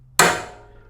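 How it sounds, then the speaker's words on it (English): A single sharp metallic strike of a cold chisel chipping stray welding BBs off a steel floor sheet, loud and close with a ringing decay. "so just use a cold chisel here to chip it off"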